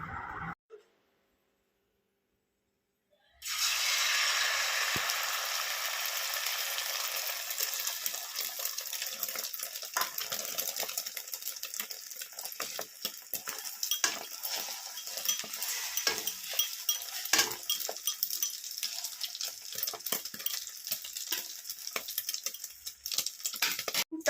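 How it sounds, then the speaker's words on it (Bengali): Tap water runs steadily into a kitchen sink during cleaning, a continuous close hiss with scattered clinks and knocks of dishes, starting after a brief silence and going on without talk. "তো চলো সিঙ্কটাও ক্লিন করে নিলাম।"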